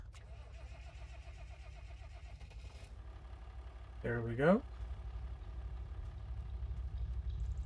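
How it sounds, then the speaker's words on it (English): A tractor engine cranks and catches on a cold morning, then settles into a steady low idle. The start-up is a brief louder burst, and someone speaks briefly over the running engine. "I'm just gonna start up this tractor, let her warm up for a minute this morning."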